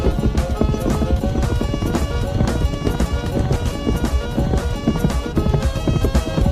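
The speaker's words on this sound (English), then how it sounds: "The music and the horse trot is something we put in just to fill the spot." Horse trotting effect in a racing video game, a steady clip-clop rhythm of hooves running continuously under loud, dense game music throughout.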